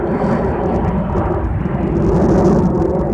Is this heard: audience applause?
no